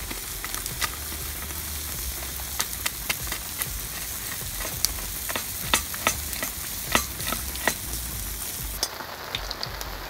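Campfire coals are shifted closer under a bushcraft barbecue of boerewors, with scattered sharp scraping clicks over a continuous close sizzle and crackle.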